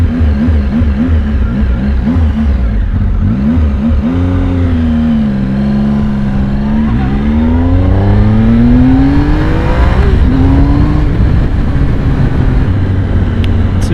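A 2016 Triumph Speed Triple S three-cylinder motorcycle engine runs loud and close, its pitch sweeping up and down through repeated revs, with no talking.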